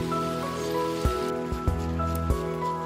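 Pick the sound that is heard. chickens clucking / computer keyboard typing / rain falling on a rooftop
rain falling on a rooftop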